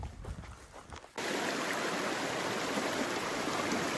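Creek water at Head Creek in Kananaskis rushes in a steady, dense wash that starts abruptly after a second of quieter outdoor sound, then stays loud and even.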